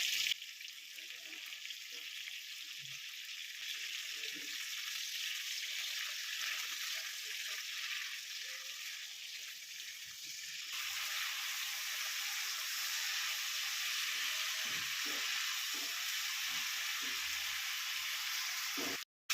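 Ivy gourd frying in oil with mustard seeds spluttering, a steady broad sizzle throughout, with faint low clatter and occasional pops beneath, growing slightly louder partway through.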